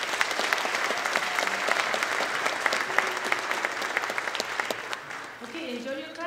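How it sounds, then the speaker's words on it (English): An audience at a school district awards ceremony applauds steadily, a dense wash of clapping from a crowd indoors that continues throughout and eases slightly near the end, with a few voices audible. "enjoy your clapping because this is the last time"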